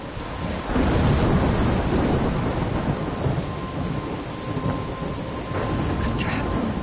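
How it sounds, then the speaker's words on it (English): A thunderstorm with steady rain and low rumbling thunder, a dense continuous wash of noise that swells early and stays loud throughout. "I'm trapped in a storm?"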